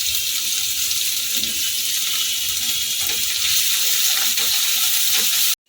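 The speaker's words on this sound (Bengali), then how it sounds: "পেঁয়াজটাকে একটু হালকা করে ভেজে নেব" Medium-sized chopped onion frying lightly in a pan, a steady loud hissing sizzle that holds evenly, then cuts off abruptly at the end.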